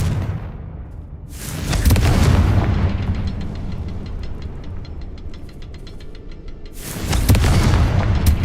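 Two booming blasts from the Confringo fire spell in Hogwarts Legacy, each a loud, deep detonation that rolls off into a rumbling tail, the second coming about five seconds after the first.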